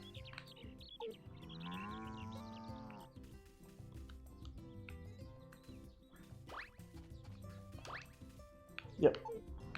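Cows in the farming video game Story of Seasons: A Wonderful Life give a drawn-out moo, joined by a few chirps and small effects, while a person talks over the game.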